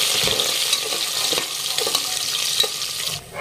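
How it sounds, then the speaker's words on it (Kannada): Cumin seeds frying in hot oil for a dal tadka, a close, bright crackling sizzle with light scraping and stirring strokes throughout, easing off abruptly at the very end. "ಜೀರಿಗೆ ಹಾಕೊಂಡು ನೋಡ್ರಿ ಈಗ ಇದನ್ನು ಕೂಡ ಫ್ರೈ ಮಾಡ್ಕೊಳ್ಳೋಣ್ರಿ"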